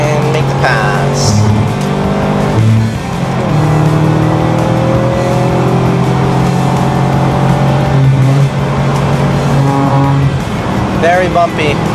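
A Subaru WRX STI driven hard on a bumpy road, its engine droning loudly and steadily throughout with shifting pitch as it takes a corner, while someone talks over it.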